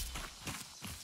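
Quick footsteps of a player running in Hunt: Showdown, a series of soft, thudding steps in an uneven rhythm at moderate distance, with no voices over them.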